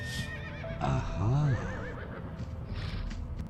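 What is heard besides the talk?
horse neighing in Limbo of the Lost video game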